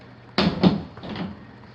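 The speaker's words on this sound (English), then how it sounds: "Laundry door swings closed on its own accord." A laundry room door in a Dallas condo swings shut by itself, giving two close knocks and then a softer, muffled bump a moment later, heard in a quiet room.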